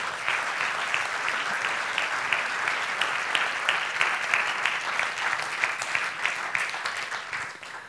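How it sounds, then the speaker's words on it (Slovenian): Audience clapping steadily in a hall at a cultural holiday ceremony in Ajdovščina, Slovenia, a dense, continuous round of applause that tapers slightly at the end. "in vsem skupaj še enkrat zaploskajmo"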